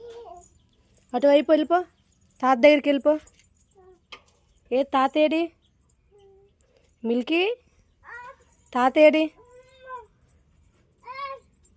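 A cat meows several times in short, separate calls, with a person's voice mixed in between them.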